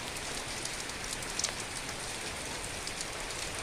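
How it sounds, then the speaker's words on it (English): Heavy rain falling on a garden, a dense, steady hiss of drops with occasional closer patters, no voices. "It's been raining so hard."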